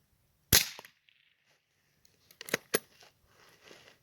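Shots from a .22 Long rifle and a .177 air rifle: a sharp single crack, then after a pause two more snappy reports with light mechanical clicks and handling noise, fairly quiet overall.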